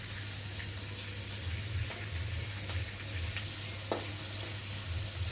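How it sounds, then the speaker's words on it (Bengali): Garlic paste sizzles in hot oil with onions that have already been fried, a steady, moderately loud crackling hiss over a low hum, with a few brief sharper pops. "পেঁয়াজটা ভাজা ভাজা হয়ে যাওয়ার পরে এবার দিয়ে দেবো রসুন বাটা।"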